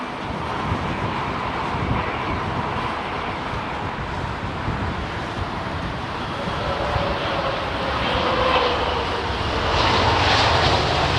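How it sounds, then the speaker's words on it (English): Airbus A350 airliner at London Heathrow Airport on a windy day, a steady, loud jet engine roar that builds slightly toward the end, with wind noise over the microphone and no talking. "That must be a delayed A350 or something, I would imagine."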